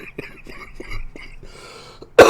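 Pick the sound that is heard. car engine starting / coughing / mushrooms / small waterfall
coughing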